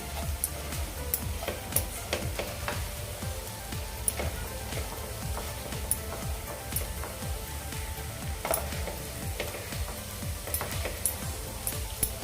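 Peanut chutney sautés uncovered in a pan with a continuous soft sizzle and crackle, while a spoon stirs and clicks against the pan in frequent small taps; no talking.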